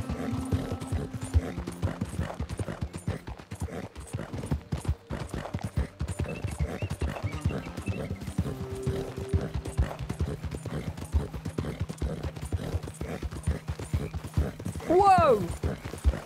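Horse hooves clip-clopping in Red Dead Redemption 2, a steady galloping beat throughout at moderate volume, with soft game ambience and a short whinny near the end.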